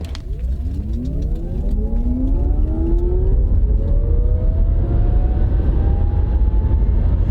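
A small, inexpensive Chevrolet car is floored from about 50 on a drag strip, its engine note climbing steadily in pitch through a long loud pull from inside the cabin, with road and wind roar building underneath and no talking.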